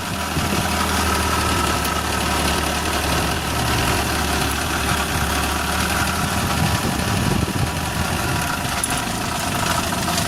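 A Suzuki Carry 1.0 engine idles steadily with a rough, uneven, diesel-like rattling knock running through it, close and continuous with no talking.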